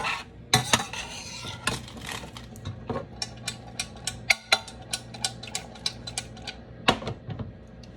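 Chopped celery is sautéed in a pan, with a steady run of sharp clicks and taps from a utensil stirring against the pan over a faint background sizzle. No one speaks.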